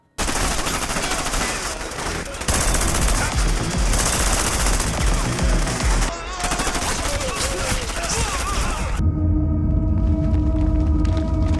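Dense, continuous bursts of gunfire from criminals trying to break in, with heavy rumbling, loud and sustained, briefly dropping out before resuming, then giving way to a lower droning tone.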